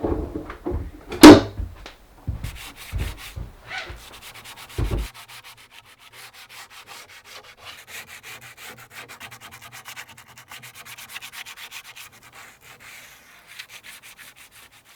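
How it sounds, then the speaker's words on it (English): Hand sanding of shoes before painting: a few sharp rubbing and handling knocks early on, then a steady, soft, scratchy rasp of light sanding continuing quietly and evenly to the end. "I do need to clean and lightly sand these, so let's do that first"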